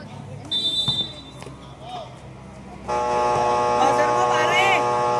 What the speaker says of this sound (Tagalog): Buzzer mo, pare! Buzzer mo!